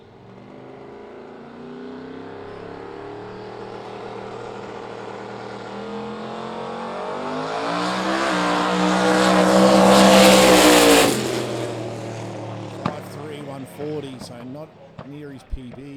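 A drag racing car on a solo run at a street radial race day builds a loud, rising engine roar that peaks, then cuts off abruptly, followed by scattered sharp pops and thuds at a distance.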